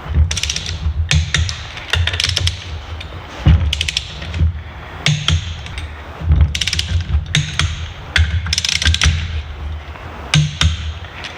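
A torque wrench ratchets and clicks repeatedly while tightening crank bolts on a Polaris XCR 600 SP triple engine, an irregular series of close metallic clicks and rattles with no talk.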